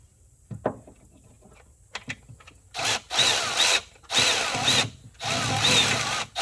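Power tool loosening the power steering pulley on a 2007 Hyundai Santa Fe during engine removal: a few soft clicks and taps, then three loud, close whirring bursts about a second long with short gaps between them.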